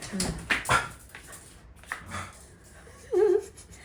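A pet dog named Oscar gives a brief high whimper near the end, after a few scattered thumps and rustles close by.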